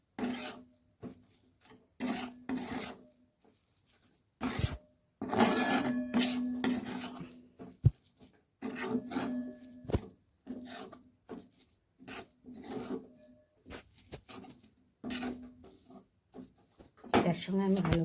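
Food being stirred and mixed in a pan with soybean chunks added, giving repeated scraping, rasping strokes in short bursts with brief pauses, close and moderately loud, with a voice talking at times.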